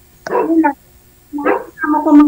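A pet dog barks in three quick bursts, the middle one set apart by a short pause and the last drawn out into a yelping whine, loud and close.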